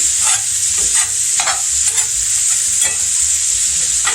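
Sausage for a breakfast casserole fries loudly in a pan, hissing continuously while a spatula breaks it apart with a repeated rhythm of close scraping strokes.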